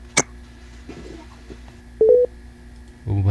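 A few short telephone dialing tones beep during a call on a live radio program, separated by quiet gaps with faint background noise, followed by a low rumble at the end.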